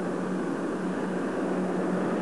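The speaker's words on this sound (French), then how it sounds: "Et voici les 8 réacteurs de sustentation qui démarrent." Eight lift jet engines of a Dassault Balzac vertical-takeoff aircraft spool up together, producing a steady, loud, dense roar that holds constant throughout without any talking.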